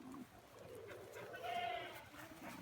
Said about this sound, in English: Got a little baby goat here that's bloated.